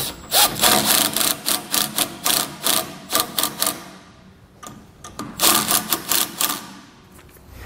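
Nut driver tightening nuts on a base plate while installing a Demco 4-diode tail light wiring kit on a towed vehicle: rapid bursts of close clicking ratchet-like ticks in two runs, separated by a quieter pause.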